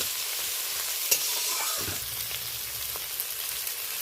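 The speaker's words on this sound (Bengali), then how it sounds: "এইটা বেশ কিছু সময় ধরে ভালো করে ফোড়নের সাথে কেটে রাখা টমেটো আর পেঁয়াজটা নরম না হওয়া পর্যন্ত নেড়ে চেড়ে নেব" Chopped tomato and onion stir-fry with tempering spices in a pan, a continuous bright hiss of frying with a few soft stirring scrapes and one brief clink, close and steady throughout.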